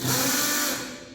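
A short, high whirring grind of a screw gun bit slipping in a screw when not held square in the hole, loud at first then tapering off.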